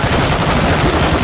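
Gunfire in a video game, a dense, loud burst of rapid shots blending into continuous roaring fire for just over a second.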